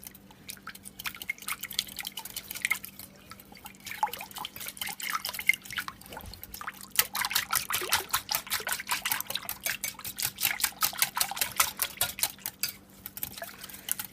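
A whisk beats red velvet cake batter mixtures together in a bowl, rapid rhythmic wet ticking and clicking against the bowl that starts sparse and quiet, then grows steadier and denser over a faint steady hum.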